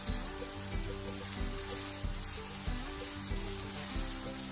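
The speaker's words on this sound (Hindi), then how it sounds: "इसको डालकर अच्छी तरह भूनना है।" Green tomato curry sautéing in a pan with red chilli, chilli sauce and salt, a steady close sizzle with soft rhythmic stirring scrapes and no voices.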